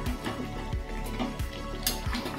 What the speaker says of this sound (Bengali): আবার একটুখানি নেড়ে নেব, ভালো করে কষিয়ে।